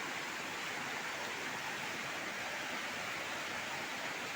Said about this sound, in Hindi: इसके नीचे जो है नदी बह रही है